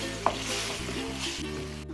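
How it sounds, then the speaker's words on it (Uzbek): Bell peppers and tomato fry in a pan with a steady, close sizzle, and a quick stir or scrape lands near the start. "bor yo'g'i 2 minutgina qovuramiz."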